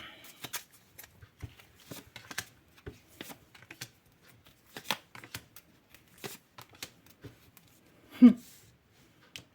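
Cards are dealt and laid down in a quick series of soft slaps and flicks, with a louder thump near the end.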